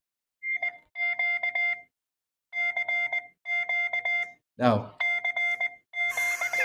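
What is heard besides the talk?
phone ringtone playing Morse code CQ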